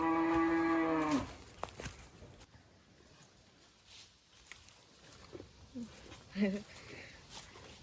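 A cow moos once, loud and close, in a village on Anjouan, followed by outdoor ambience with scattered faint sounds and people talking quietly nearby.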